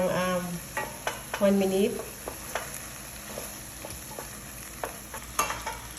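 Tomato paste fries in a pan under a soft, steady sizzle while a utensil stirs and taps against the pan, and a voice speaks briefly at the start.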